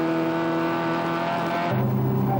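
Race car on a circuit during a 1987 24-hour endurance race, a sustained loud engine drone that drops in pitch partway through as the driver brakes, then carries on at a lower, steadier tone.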